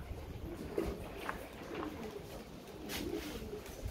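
Pigeons in a breeding loft give soft, repeated coos and low throaty calls, fairly close but quiet, in a steady rhythm over a faint background hum.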